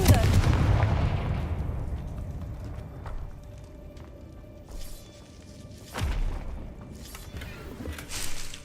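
A Confringo blasting spell from Hogwarts Legacy on PC bursts loudly at the start, a booming explosive blast that decays over several seconds, followed by a few fainter thuds and impacts.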